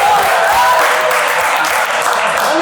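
An audience applauds steadily at a business talk, dense clapping filling the room with a few cheering voices for about two and a half seconds.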